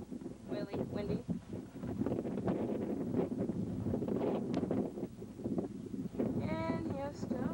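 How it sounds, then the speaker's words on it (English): Gusty wind buffets the microphone in loud, rumbling bursts throughout, with people talking underneath, outdoors at a stone circle. "It's kind of windy. Really windy."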